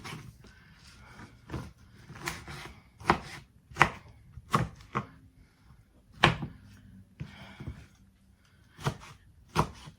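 A knife chops food, likely tomatoes, on a cutting board in a home kitchen, with sharp, close, irregular knocks spaced a second or so apart and no talking.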